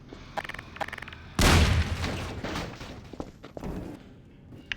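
A grenade explosion in Half-Life 2 sets off a sudden loud, broad boom that rumbles and decays over a couple of seconds. Quieter gunfire-like bursts come just before it and fainter crackles follow.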